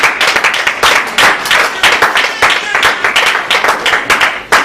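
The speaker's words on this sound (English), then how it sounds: "Now clap for Jesus." A church congregation claps in rhythm, loud and close, with sharp regular bursts of many hands beating together in a steady pulse.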